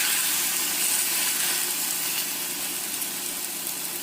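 Pork shoulder pieces frying in a pan, a loud, dense, continuous sizzle that holds steady and eases slightly, with no talking.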